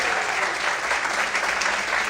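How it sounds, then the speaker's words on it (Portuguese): A church congregation bursts into louder, sustained applause, a thick wash of many hands clapping at once, steady and strong from start to finish. "Mais fortes palmas, aleluia."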